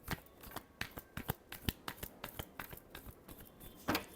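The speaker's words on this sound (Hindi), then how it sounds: "Last shuffle." Tarot cards are shuffled by hand in a quick, steady run of crisp riffling flicks, about a dozen close, soft snaps over a few seconds with no talking.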